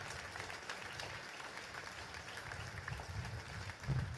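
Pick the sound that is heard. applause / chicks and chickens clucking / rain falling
applause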